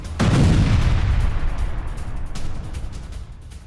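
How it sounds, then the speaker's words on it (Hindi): Explosion from an Israeli military strike on Hezbollah sites in Lebanon: one heavy blast bursts out with a deep booming roar that rumbles on and slowly fades, loud and close, with no voices. "जोरदार धमाका विस्फोट हुआ है जिसमें हिजबुल्लाह के ठिकानों को"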